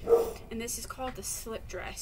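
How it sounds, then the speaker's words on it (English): Dogs bark in the background of a home, a short sharp bark at the start and then lighter yips beneath someone talking close to the microphone. "Sorry about the dogs."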